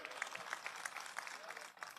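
Crowd applause at a public political rally in Neral comes as a brief burst of rapid, distant clapping, faint and steady for about two seconds.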